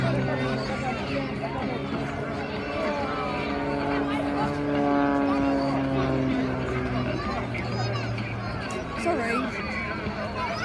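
An XA-42 aircraft with a Lycoming engine and three-bladed propeller flies over a beach air show. Its engine drone rises and falls as it passes while a commentator talks and a crowd murmurs.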